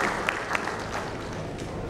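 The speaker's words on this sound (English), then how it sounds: "Can we have a huge round of applause for him," Brief applause from a conference audience after a banking panel discussion, a dense round of clapping with a few sharp nearby claps, loud and continuous across the short stretch.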